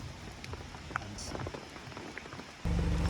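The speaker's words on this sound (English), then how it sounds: "This rain's just need to get that canopy up, don't we?" Rain patters steadily around outdoors as people prepare to raise a canopy, a soft continuous hiss with scattered drops, turning suddenly louder and heavier near the end.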